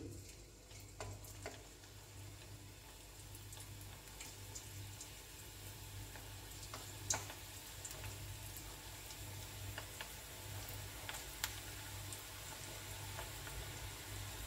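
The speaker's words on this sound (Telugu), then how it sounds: "డీప్ ఫ్రై చేసుకోవాలి. ఇప్పుడు డీప్ ఫ్రై ఎలా చేయాలో చూద్దాం." Bread pakoda batter deep-fries in hot oil, giving a steady, even sizzle with scattered small pops and crackles, close and moderately quiet, with no talk.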